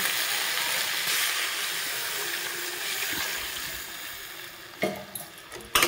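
A home-style Bengali curry of folui fish with potatoes, vegetable stems and lentil dumplings simmers in a pan, a soft, steady bubbling hiss with a few sharp utensil clinks near the end.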